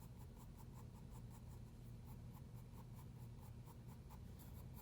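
A pencil sketches arm hair on the inside of a forearm drawing, a soft, faint, rapid rhythm of short scratching strokes on paper, steady and close with no voices.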